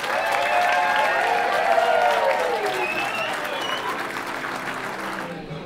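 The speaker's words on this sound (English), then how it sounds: "big round of applause for the beautiful parents of the groom" Wedding guests applaud the groom's parents at a Sydney reception, a steady, dense wash of clapping and crowd noise that holds loud for several seconds before easing off.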